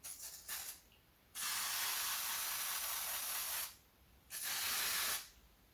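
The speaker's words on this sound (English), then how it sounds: "let's see if I spray specifically this patch" L'Oréal Paris Magic Retouch aerosol root spray hisses onto hair in a few quick short bursts, then one long steady blast, then a shorter one, close and loud.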